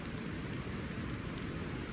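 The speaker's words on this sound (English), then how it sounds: "now the rain's here" Light rain falling steadily at a campsite, a dense even hiss with soft patter spread across the whole clip and no voices.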